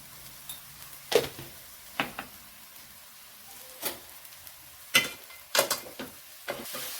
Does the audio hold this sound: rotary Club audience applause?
no